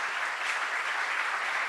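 A Startup Grind Barcelona anniversary party audience applauds steadily as panel speakers are called up, a dense, even wash of clapping with no voices over it.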